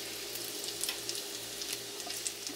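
Bacon fat sizzles quietly in a frying pan, a soft, continuous crackle with tiny pops, heard alone and up close.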